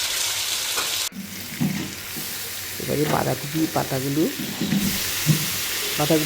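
Chicken pieces sautéing in a pan with turmeric, chilli powder and coriander, a steady close sizzle with stirring scrapes, under a voice talking.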